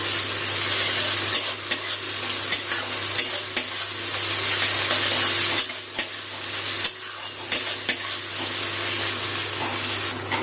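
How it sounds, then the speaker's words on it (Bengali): Ginger-garlic paste frying with onions in a pan for a chicken dish, a loud steady sizzle broken by repeated scraping stirs every second or so, close up with no one talking. "আদা রসুন বাটাটা একটু পেঁয়াজের সাথে ভেজে নেব।"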